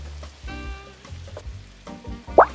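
Chicken wings in sticky oyster sauce bubble and sizzle on low heat while being stirred, with soft scraping and clinking at close range.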